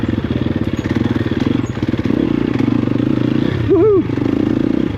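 A Triumph TF250-E enduro motorcycle rides off-road, its engine holding a steady, loud rhythmic drone close by with a brief shift in pitch near the end and a short voice over it.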